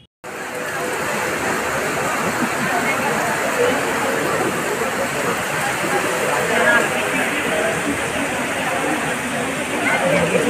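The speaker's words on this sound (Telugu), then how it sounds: "రెయిన్ ఎలా పడుతుందో ఒకసారి చూద్దాం" Rain pours steadily at Arunachaleswara temple in Tiruvannamalai during flooding, a dense continuous wash of falling water that starts abruptly and holds without letup, with faint crowd murmur beneath.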